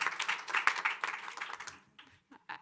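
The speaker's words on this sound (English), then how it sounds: "Big round of applause for that" Audience applause at a Food Day event at the UN General Assembly, a burst of many hands clapping that fades out after about two seconds, followed by a few scattered claps.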